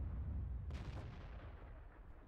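A single sharp tank cannon blast in World of Tanks with a quick, rolling decay, followed by a low rumble fading out; no voices.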